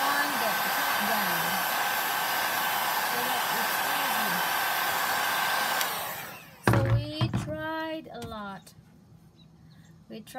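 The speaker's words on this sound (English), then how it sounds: "Oh, you need a heat gun." A heat gun blows steadily and loudly for about six seconds as it heats Eternabond rubber roof repair tape on an RV roof, then cuts off, and people talk afterward.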